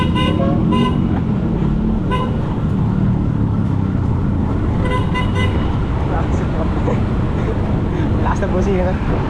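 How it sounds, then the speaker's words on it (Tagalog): A vehicle horn, likely from a motorbike, honks several times in short bursts amid busy road traffic during a bike ride in Quezon City, loud and close over constant engine and road noise with voices talking. "Lakas na busina."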